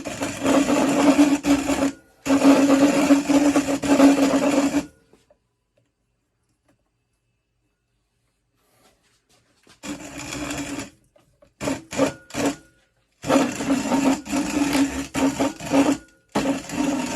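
A WonderMill Junior Deluxe electric grain mill grinds rice into coarse flour with a loud, even motor whine. It runs in two long bursts, goes quiet for several seconds, then restarts in short stops and starts.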